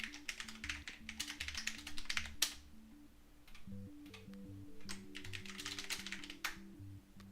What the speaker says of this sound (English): let's click and clack and put some words on page